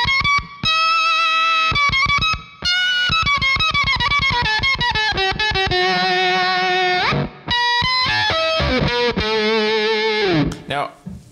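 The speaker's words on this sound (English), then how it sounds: "I'm going to turn the octave back on" An electric guitar on the neck pickup plays through a Red Witch Seraphina fuzz pedal with the octave engaged, producing loud, buzzy octave-fuzz single-note lines in quick picked phrases with brief pauses.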